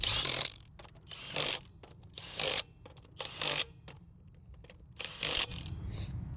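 Lug nuts being tightened on a Polaris Pro R wheel, a series of short ratcheting bursts separated by pauses, close and fairly quiet with no talking.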